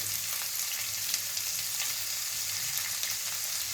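Garlic cloves and peanuts frying in oil in a pan for rava upma, a steady close hiss and sizzle with faint stirring running throughout, no voices.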